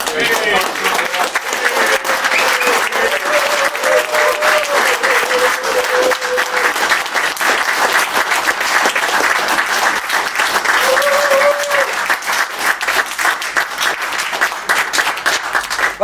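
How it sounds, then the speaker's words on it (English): A conference audience claps steadily and loudly throughout, a dense wash of applause with a voice faintly audible beneath it. "Just again, a round of applause"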